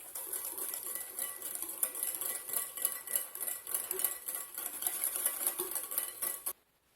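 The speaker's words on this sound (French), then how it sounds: "Alors je mets le sucre dans le yaourt à l'amande. Et on va bien mélanger avec un fouet." A whisk beats sugar into almond yogurt in a bowl, a steady fast scraping and clinking of metal wires against the dish, continuous and fairly close, stopping abruptly at the end.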